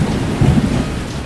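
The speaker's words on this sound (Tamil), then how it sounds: "ஒரு நாள் நல்ல மழை பெய்தது." Heavy rain pours with a deep rumble of thunder over it, a loud and dense storm that swells briefly near the middle, used as a story sound effect.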